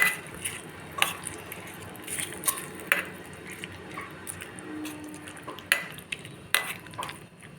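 Ivy gourd (dondakaya) chutney being mixed with a spoon, soft wet stirring with scattered sharp clicks of metal against a bowl, close and fairly quiet.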